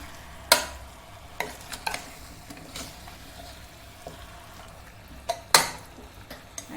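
Chicken is sautéed in a pan before pressure-cooking for soup, with a faint sizzle under sharp scraping and clanking stirring strikes, a few loud, irregular spatula hits standing out.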